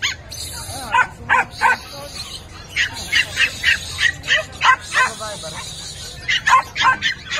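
Small dogs such as Pomeranians and Shih Tzus bark and yip repeatedly at a crowded pet market, sharp rhythmic bursts close by, with vendors and customers talking over them.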